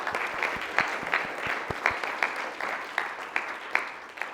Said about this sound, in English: can we have a big round of applause for Honey?